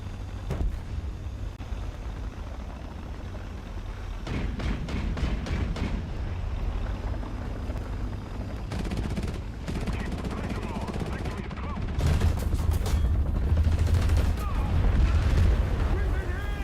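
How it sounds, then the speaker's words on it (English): Tank in War Thunder taking incoming fire and being struck, with repeated heavy booms and rapid bursts of cannon and machine-gun fire in a loud, dense battle mix, including a sharp cluster of hits near the end. "We've been hit! Target destroyed. Running gears out of order. What? Something else shot at me."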